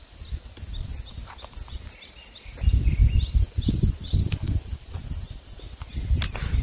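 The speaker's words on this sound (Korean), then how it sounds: "아, 새소리도 좋고" Birds chirp in short repeated calls at a moderate distance in the countryside of a mountain valley near Andong, with a low rumble of wind and movement underneath; the calls thin out midway.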